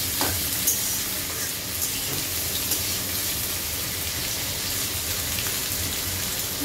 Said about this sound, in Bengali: ভালো করে পেঁয়াজগুলো ভেজে নিচ্ছি